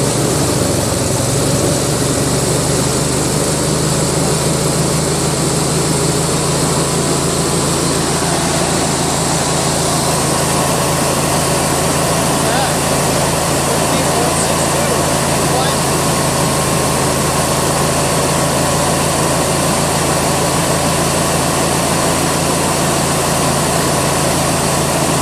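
Husqvarna lawn tractor riding mower engine held at raised throttle, a loud, steady, close drone that runs unbroken for the whole stretch, its pitch stepping up partway through.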